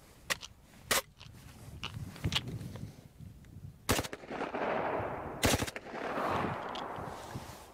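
A machine gun fires several short, loud bursts of gunfire, spaced apart, with sharp cracks and echoing tails in between.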